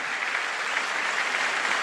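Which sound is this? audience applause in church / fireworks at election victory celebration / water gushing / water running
audience applause in church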